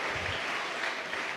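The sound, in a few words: church congregation applause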